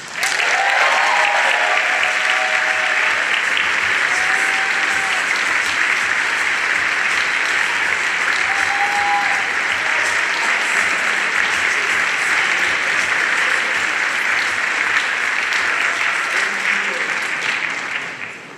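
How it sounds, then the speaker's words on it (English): A large audience applauds at an awards ceremony honoring a winner, sustained dense clapping lasting many seconds before fading at the end, with a few faint shouts mixed in. "Please, a big round of applause for the first ever Rising Voice Award to Zach Johnson."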